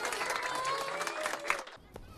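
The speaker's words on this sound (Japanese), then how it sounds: "皆さん拍手してあげましょう。" A classroom of animated children applauds a drawing chosen as district representative, a faint wash of clapping under a lively background that cuts off abruptly near the end.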